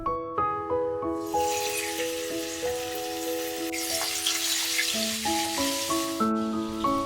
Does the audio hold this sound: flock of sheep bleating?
no